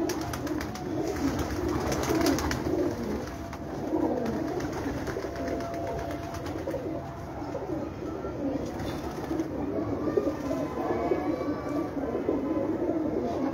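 Pigeons coo steadily in a continuous low murmur, many birds close by, with a dense background hum and no clear talking.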